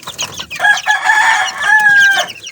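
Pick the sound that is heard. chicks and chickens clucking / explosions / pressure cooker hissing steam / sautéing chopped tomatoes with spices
chicks and chickens clucking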